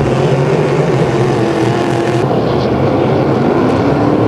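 Hydroplane racing boats scream past on the course at Long Sault, a loud, continuous engine roar that shifts in pitch as the boats pass.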